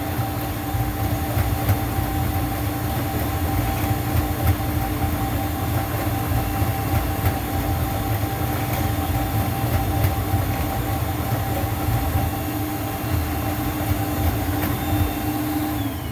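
Juma 110 escalator cleaning machine running with its vacuum on while dispensing cleaning solution, a steady loud mechanical hum and rumble with constant whirring tones throughout, no voices.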